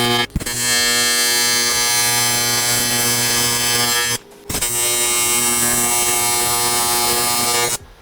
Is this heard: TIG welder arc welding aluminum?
yes